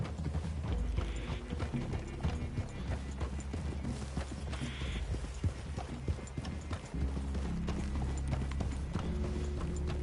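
Horses' hooves clip-clop steadily through a clearing, mixed with creaking, clinking mechanical rattles of tack and gear, a busy continuous texture without clear speech.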